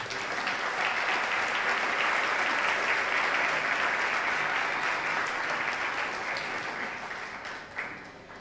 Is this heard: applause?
yes